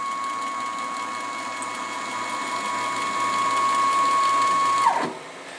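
Steady whining hum with a high tonal whistle as the stepper motor on a Grizzly G0602 lathe rapid-traverses the carriage across the bed, rising slightly, then a brief clunk as it stops and the drone drops away.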